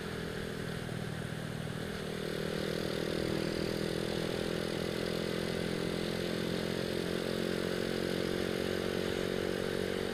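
A Honda Astrea motorcycle fitted with a bored-out original Supra FI exhaust runs close by, idling and then rising to a louder, steady throaty drone with a buzzing edge, no one talking over it.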